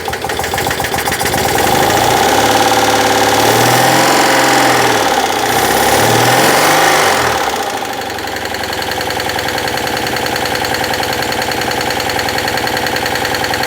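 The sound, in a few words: Citroën 2CV engine idling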